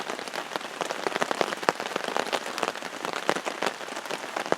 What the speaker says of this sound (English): Alright, I'm going to watch the rain for a little while.